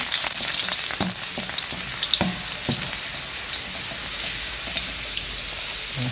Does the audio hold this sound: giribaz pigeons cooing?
no